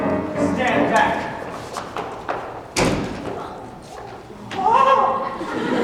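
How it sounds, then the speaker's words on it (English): A door being broken down in a stage production of the murder mystery Clue: one heavy, sharp thud lands mid-scene, with voices speaking before and after it. "I'll have to break down the door."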